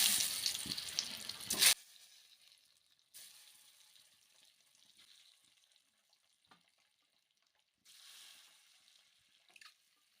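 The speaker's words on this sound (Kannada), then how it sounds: "ಮೊಟ್ಟೆನೂ ಸ್ವಲ್ಪ 1-2 ನಿಮಿಷ ಫ್ರೈ ಆಗಬೇಕು" Eggs hit hot oil in a pan for egg curry, giving a loud, hissing sizzle at first that quickly drops to a faint, intermittent crackle with brief fuller swells later.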